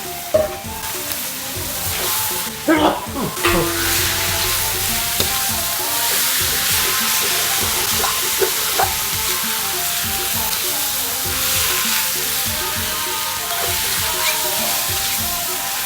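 Ingredients for northern Thai laab being stir-fried in a pan, a loud, steady sizzle with scraping stirs and occasional clatters of the utensil against the pan, continuous and close.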